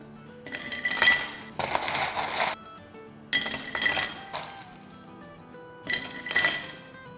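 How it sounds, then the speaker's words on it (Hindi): Lots of ice clattering into a glass while assembling a sherbet drink: three separate bursts of clinking, rattling cubes, fairly close, with brief pauses between pours and no talk. "तो सबसे पहले हम डालेंगे आइस। ढेर सारी आइस डालेंगे।"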